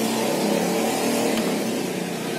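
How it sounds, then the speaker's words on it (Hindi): Street traffic noise fills the space, a continuous loud wash of passing car engines with some revving, close and steady throughout with no talking. "आज जरा ज्यादा शोर है ट्रैफिक का"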